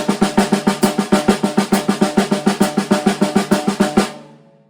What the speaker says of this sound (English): playing eighth note triplets like this